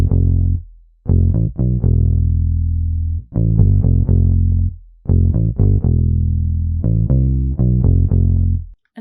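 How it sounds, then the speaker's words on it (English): Synth bass line in FL Studio following root notes, with little runs and a short break for bounce, playing as a series of short punchy low notes in bouncy phrases, loud and alone with brief gaps. "Then I went to this bank and I added this bass"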